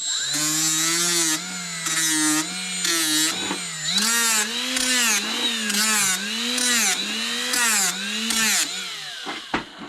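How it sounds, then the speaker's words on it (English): A Scotch-Brite wheel deburrs a machined light bezel, giving a loud, steady whining drone that swells and dips in regular pulses as the part is pressed against it and eased off, then stops abruptly. "we're just going to deburr it with a Scotch-Brite wheel real quick"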